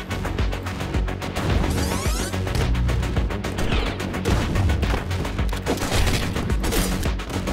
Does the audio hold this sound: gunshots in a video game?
yes